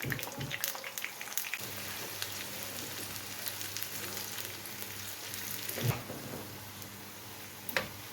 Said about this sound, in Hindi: ये मैंने तेल रख दिया ऊपर अब डाल देंगे इसमें प्याज रहीम